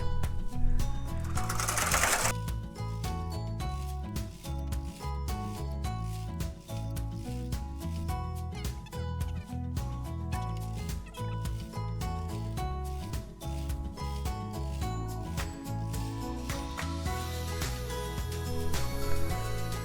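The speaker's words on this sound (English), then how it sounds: "Make sure your machine is set up right. And go ahead and knit 22 rows." A knitting machine works 22 rows of a long chunky-yarn sock with the tension dial at 10. The carriage runs in a steady, loud, continuous mechanical clatter and whir, close by, with no voices.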